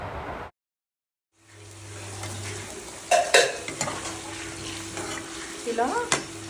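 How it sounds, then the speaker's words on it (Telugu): Gooseberries (amla) frying in oil, a quiet sizzle rising after a short silence, with scattered clinks and scrapes of a spatula against the pan. "ఇలా ఉసిరికాయలు సాఫ్ట్ అయ్యేంత వరకు ఫ్రై చేయాలి."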